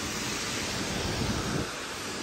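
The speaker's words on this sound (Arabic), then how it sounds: "الطبيعه قويه، اقوى شيء الهواء يعني الرياح" Strong wind whips through rain on Oxford Street in London, a constant, even roar of rushing air and hiss with no voices.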